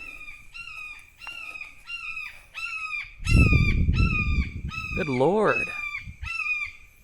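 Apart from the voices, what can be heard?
bird screaming while flying overhead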